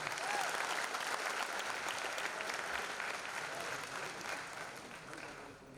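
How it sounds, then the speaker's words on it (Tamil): An audience at a music talk event gives a big round of applause, a broad continuous clatter of many hands that gradually fades toward the end, with faint voices underneath. "ஒரு பெரிய கைத்தட்டு ஒன்று"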